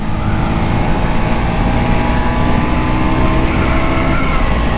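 KTM RC 200 GP Edition motorcycle engine in 5th gear accelerating hard to overtake, a loud, steady close-up roar blended with wind rush, with no talking over it.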